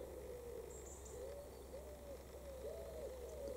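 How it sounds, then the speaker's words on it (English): A young wood pigeon calls repeatedly beside the Icknield Way at the start of a Fleam Dyke walk near Balsham, its soft hooting coos rising and falling in a steady series over a constant low hum. "I can hear a baby wood pigeon."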